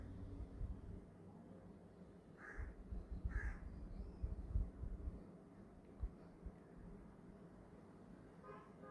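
Crows cawing outdoors near a home, two short caws standing out faintly from a quiet background with distant traffic, no speech.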